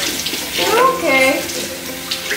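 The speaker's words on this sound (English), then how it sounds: "Now, rinse this out." Water runs steadily from a kitchen tap for about two seconds while something is rinsed out during homemade baby food preparation, a close, continuous splashing hiss that swells in the middle.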